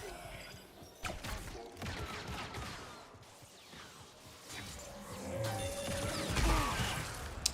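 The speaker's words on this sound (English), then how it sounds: "I keep forgetting those explosions." Explosions and crashing blasts in the video game Star Wars Jedi: Survivor, several sharp bursts and rumbling booms scattered through dense game noise, with a louder blast near the end.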